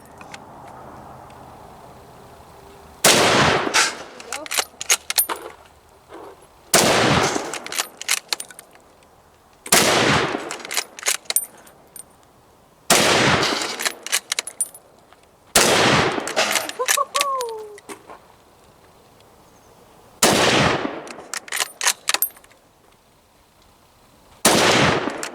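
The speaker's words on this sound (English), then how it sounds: "You're shooting low, aim a little higher." Gunshots from a bolt-action rifle during close-range shooting practice, seven loud sharp reports spaced a few seconds apart with brief echoing tails, a voice speaking between some shots.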